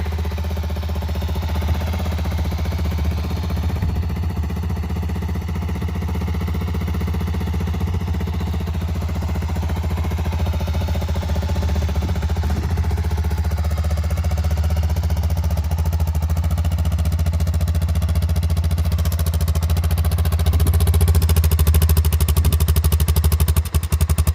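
A Honda TRX 350D ATV engine idles steadily at close range with a low, even putter and a light mechanical clatter, running alone without talk and growing slightly louder near the end.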